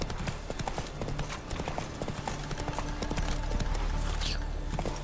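Hooves of the horse Roach clip-clopping steadily in The Witcher game, a continuous rhythmic beat under ambient game sound, mid-distance and moderately loud.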